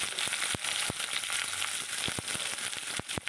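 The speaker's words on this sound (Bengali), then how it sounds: "কালো জিরে ফোড়ন দিয়ে এবার সমস্ত সবজিগুলো দিয়ে দিলাম।" Drumstick-flower vegetables go into hot oil tempered with black cumin seeds, giving a loud, crackling sizzle with sharp pops and spatters scattered through it.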